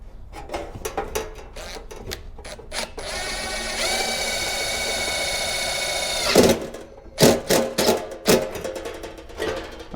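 A power driver runs a screw into an aluminium kart body panel, a high whining buzz lasting a few seconds, framed by short clicks and knocks of handling before and after.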